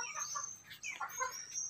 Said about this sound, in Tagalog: nandito yung ating mga manok kaparsyal, nagpapahinga sila sa area na to